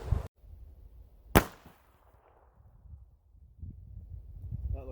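A .22 rifle shot fired at water jugs outdoors rings out as one sharp, loud crack near the middle, with a fainter click at the start and wind rumble throughout.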